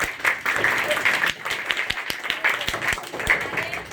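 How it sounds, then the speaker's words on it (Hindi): An audience at a talk in Surat, Gujarat, claps in short uneven bursts, moderately loud and fairly close, mixed with crowd voices and a speaker talking through it. "बताइए तालियां बजाइए"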